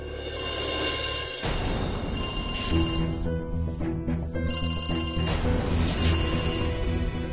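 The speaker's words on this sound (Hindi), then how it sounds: "अरे एते राति रे तुलसी ससुर कौन पाई फोन करछंती?" A telephone rings at night in a household drama, a loud repeating electronic ring in bursts over background music, with no talking.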